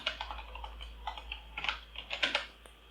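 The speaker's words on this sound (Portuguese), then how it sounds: "Dar um Ctrl S para salvar." Keys are pressed on a computer keyboard while saving code, a quick run of soft close clicks over a low steady hum, with no talking.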